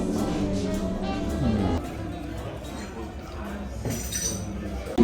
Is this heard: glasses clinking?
yes